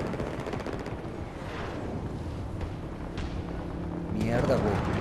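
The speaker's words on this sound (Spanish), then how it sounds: "ya vi un disparo de este lado" Gunfire in the video game Battlefield 2042, heard as repeated sharp shot bursts over a steady rumbling battle backdrop, growing louder toward the end.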